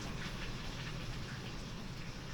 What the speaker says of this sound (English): Wow, that's really raining outside.